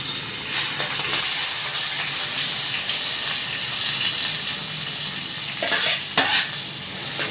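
Onions fry in a pan with a loud, dense hiss of sizzling oil. A utensil stirs through them, adding a couple of sharper scraping accents near the end.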